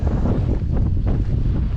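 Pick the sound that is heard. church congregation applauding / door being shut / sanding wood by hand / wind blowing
wind blowing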